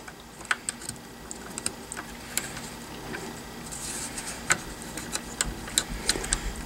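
Small, sharp metallic clicks and taps come up close and at an irregular pace as a pin is worked through the bolt hold open lever of a Saiga 12 shotgun.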